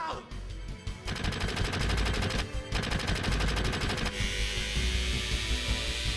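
Barret fires his gun arm in Final Fantasy VII: a loud, rapid machine-gun rattle of tightly spaced shots in sustained bursts, with a short break between volleys and dense game sound effects around them.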